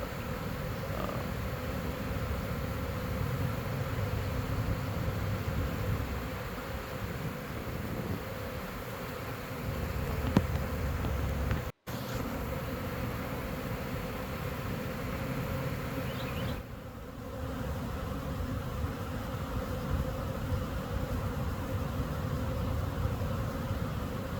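A dense swarm of honey bees hums continuously, a thick, steady buzz that fills the space without pause, with no voices present.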